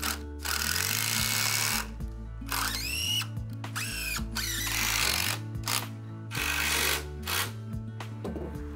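Power driver whirring in repeated bursts as screws are sunk from the top into wooden arm beams of a handmade firewood shed, with rising and falling whine over a steady mechanical hum, loud and close.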